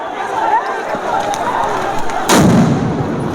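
Sound grenade going off at a protest march, a sudden loud broadband blast about two-thirds through that follows a noisy crowd scene with scattered sharp cracks and voices.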